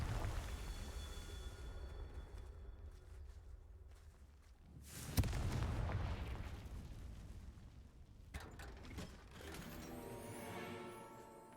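Confringo fire-blast spell explosions in the Hogwarts Legacy video game, a loud booming blast at mid-clip followed by a second burst later, over a rumbling game soundscape with no talking.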